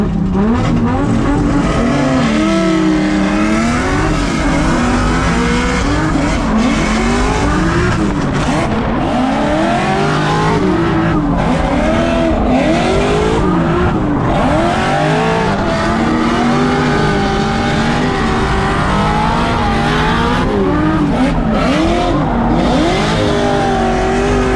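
Race cars roar around a track at CMD, engines loud and continuous with pitch rising and falling through gear changes and corners, tires squealing intermittently.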